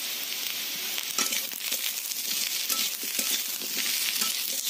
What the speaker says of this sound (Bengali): এতে দিয়ে দিতে হবে কেটে রাখা পেঁয়াজ।